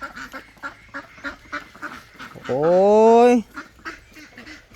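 Domestic ducks kept for laying eggs give a single loud, harsh quack of about a second, close by, amid soft background talk and a short spoken interjection.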